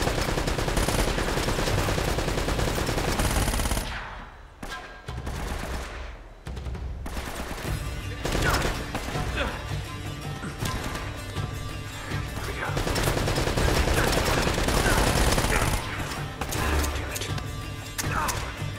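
Rapid gunfire in the action game Uncharted: Drake's Fortune, loud, dense bursts of shots and impacts running almost continuously, with one short lull.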